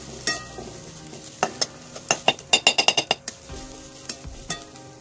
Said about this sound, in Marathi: 2 चमचे जिरे, 15 ते 20 लसूण पाकळ्या आणि 1 इंच आलं घालून आपण भाजून घेऊया